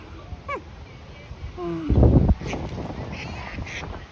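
A few nasal duck quacks close by as a dog tries to catch the duck, then a burst of louder splashing and commotion near a water fountain, with voices and outdoor noise in the background.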